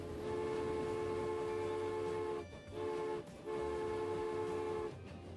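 Trains rumble along in the rail transport game Transport Fever, a sustained mechanical drone with tonal hum that dips briefly twice, as two trains run close behind each other.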